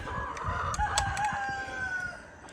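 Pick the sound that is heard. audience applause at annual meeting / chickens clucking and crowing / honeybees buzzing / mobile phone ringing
chickens clucking and crowing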